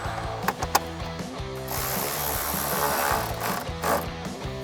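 On a Jeep Wrangler JL, fender liner push clips and a 10mm bolt go back in, with a few sharp clicks and a buzzing ratchet or power driver running in repeated short pulses, close and fairly loud.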